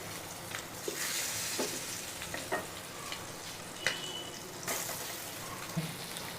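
Boiled eggs sizzling in oil in a pan of egg masala, a steady soft frying hiss with occasional light stirring clinks and pops, fairly quiet and close.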